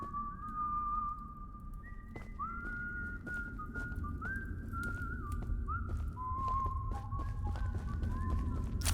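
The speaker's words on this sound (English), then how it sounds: "Sounds like there's 2 guys whistling." Two characters whistling back and forth in the video game Choo Choo Charles, wavering melodic tones overlapping throughout over a steady low ambient rumble.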